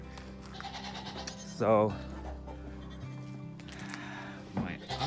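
Farm goats bleat in two loud, wavering calls, one early and one near the end, over a quiet outdoor background, with a single brief word spoken.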